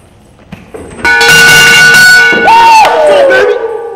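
A bell rung at a college football game, a loud clanging with ringing overtones in two strikes amid crowd noise.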